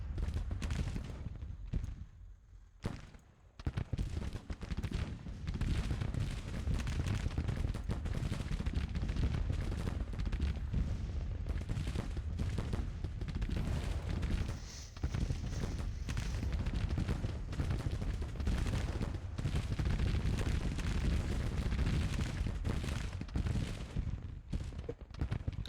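Dense battle din from a Civil War strategy game set in spring 1861: continuous musket volleys and booming artillery fire, loud and sustained throughout, with occasional horse hooves mixed into the clamor.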